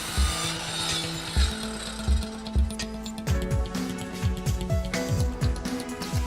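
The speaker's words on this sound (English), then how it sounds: "At the saw line, a miter saw shears the edges and cuts the plastic lumber to its final size." A miter saw shears edges and cuts recycled plastic lumber to size on a production saw line, with a steady mechanical drone under a string of repeated cutting strokes, loud and close with no speech.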